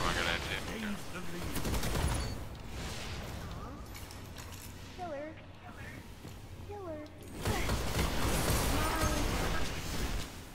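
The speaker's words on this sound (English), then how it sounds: "Heartbreaker's a really good shotgun." Shotgun fire and other gunfire in the Destiny Iron Banner multiplayer game, a constant dense battle din at moderate level with sharp blasts, while players talk over it.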